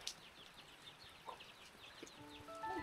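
Chickens clucking at feeding time, scratching through food set out in front of them, with soft scattered clucks and short calls over a faint, noisy farmyard background.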